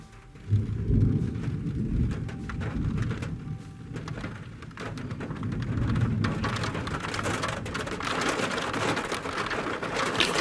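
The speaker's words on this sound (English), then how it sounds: "It's hailing." Hail pelts a car during a road trip in Switzerland, a dense steady drumming and rattling on the roof and windows that swells and eases over ten seconds, heard from inside with no voices.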